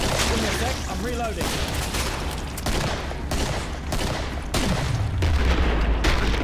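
Rapid gunfire in the game Killing Floor, a run of loud bursts and booming shots cutting in repeatedly across the scene, with a voice talking over the shooting and a low descending rumble near the end.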